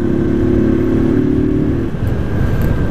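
A Honda CG Fan motorcycle engine revs loudly and steadily up close, its pitch dropping partway through as a gear change kicks in, then carrying on with a rough, clattering idle-like drone.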